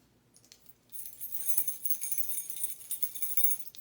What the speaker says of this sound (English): the jingle of keys